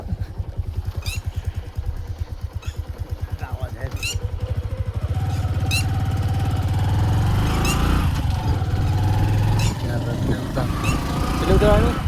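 A motorbike engine rumbles steadily during a ride, growing slightly louder and fuller partway through, with people talking over it.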